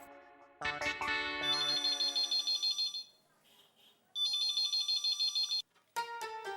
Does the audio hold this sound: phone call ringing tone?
yes